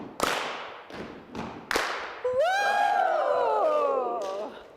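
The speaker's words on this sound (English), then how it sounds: "It's stomp, stomp, clap, stomp, stomp, clap, stomp, stomp, clap, woo" A group performs a stomp-stomp-clap rhythm, four sharp separate hits of stomping and clapping followed by a long, rising and falling whooping cry from the crowd.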